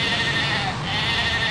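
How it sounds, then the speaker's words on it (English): Sheep bleat beneath the steady, loud drone of a low-flying light aircraft during slow-flight training, the animal calls blending into the continuous engine and wind noise. "Sheep aren't too bad."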